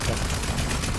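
Dense, continuous gunfire from shooting mutants in the video game Rage 2, a loud unbroken rattle of shots filling the whole moment.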